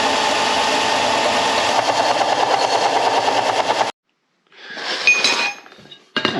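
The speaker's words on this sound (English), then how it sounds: "So with the belt sander, I'm gonna go ahead and touch that up." Belt sander grinding a steel blade edge, a loud steady whir for about four seconds that cuts off, then a shorter grinding pass with a scraping tail.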